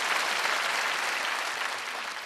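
A studio audience at a Tibetan singing show bursts into dense, sustained applause, loud and steady, tapering slightly toward the end.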